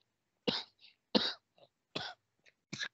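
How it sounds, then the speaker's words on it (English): Four harsh, hacking coughs come at a steady rhythm, close and fairly loud, each followed by a short breathy catch. "I got a cough"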